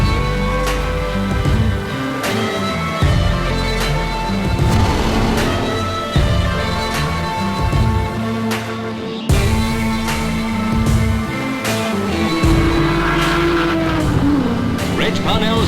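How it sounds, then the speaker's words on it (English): An Aston Martin race car overtaking an HRG at the Goodwood Revival, engines droning and shifting pitch as the cars pass, heard under steady commentary. "holding his own is Collins in an Aston Martin, seen here passing an HRG"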